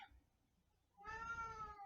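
A cat meows once, a long drawn-out harmonic call in the second half, close and fairly loud after a quiet stretch of faint room noise.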